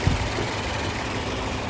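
An Infiniti Q50S engine idles in stock form with the engine bay and intake covers removed, a low steady rumble heard close up and running evenly without speech.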